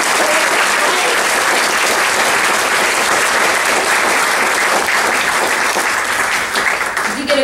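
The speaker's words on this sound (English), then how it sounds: "Let's just give these guys a round of applause." A crowd at an annual recognition event gives volunteers a long, loud round of applause, thick and continuous, with faint voices mixed in before it begins to thin at the end.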